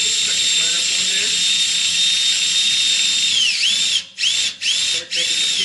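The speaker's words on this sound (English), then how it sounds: "Turn it around backwards, run the drill backwards" Electric drill running in reverse while fitting a bungee on a Piper Pacer, a loud steady high whine that sags and cuts off in three quick stop-start bursts near the end.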